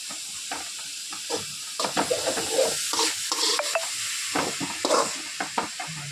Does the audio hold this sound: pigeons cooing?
no